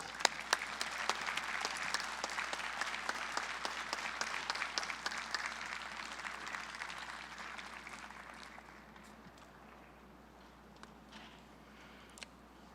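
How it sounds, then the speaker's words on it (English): Audience applause for a guest speaker named Sergio at an SDIA celebration, a dense crowd of clapping hands that is loud at first, then thins and fades over the last few seconds to a few scattered claps. "please give a big round of applause to our next speaker"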